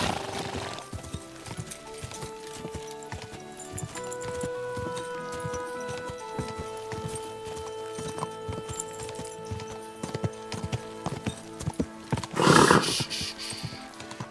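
Horse hooves clip-clop steadily over a bed of game music in Kingdom Come: Deliverance II, and a loud whinny bursts out near the end.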